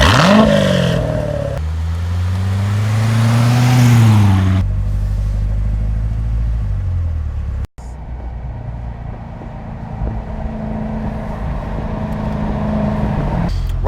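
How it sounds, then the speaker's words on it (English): A car driven in track mode accelerates through rising engine pulls and gear changes, loud and close from inside, then settles to a steadier cruising drone with no talking. "Right now we're driving it in track mode"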